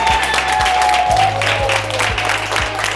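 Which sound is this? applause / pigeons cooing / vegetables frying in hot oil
applause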